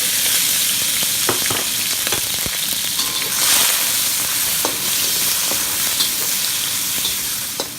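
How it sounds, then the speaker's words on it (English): Eggs scrambling and browning in a hot frying pan for fried rice, a steady loud sizzle with occasional scrapes and stirring clicks throughout. "We're gonna scramble the eggs and brown it first"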